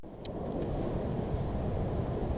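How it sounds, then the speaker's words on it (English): A lawn mower with a Briggs and Stratton OHV engine and a freshly cleaned all-plastic carburetor runs steadily, a dense continuous engine drone close by, alone with no talk. "So the mower here that I cleaned out the carburetor on is running good"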